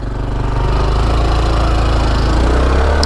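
A Honda Trail 125 motorcycle engine runs steadily and loud up close, a constant throbbing putter with no break and no talk over it.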